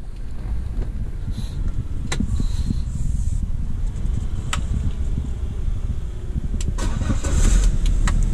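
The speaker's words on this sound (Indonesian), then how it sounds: "Mungkin sekalian gue coba start engine kali ya gitu" A BMW E46 car engine starts up nearby under wind buffeting on the microphone, followed by a rough idle with clicks and faint rattles, and no talking.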